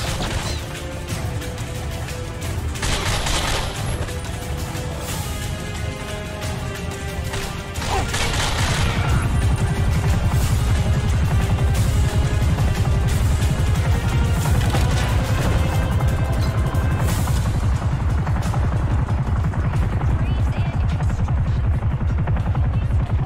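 Gunfire in the shooter game The Darkness: steady, loud bursts of shots, impacts and crashes that grow denser and more continuous over the second half, with a little talk now and then.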